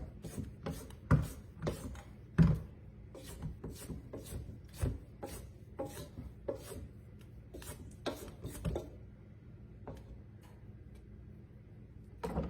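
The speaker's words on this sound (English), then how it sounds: "I'm going to scrape down the sides of the bowl" A spatula scrapes down the sides of a mixing bowl of eggless thumbprint cookie dough, making a rhythmic series of rasping strokes, a dozen or more at an even pace, close and fairly quiet with no talking.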